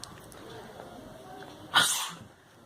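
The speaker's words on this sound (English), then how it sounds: "Bro, you're sneezing too much." A single loud sneeze bursts out near the mic in a comedy skit, standing out sharply against quiet background murmur.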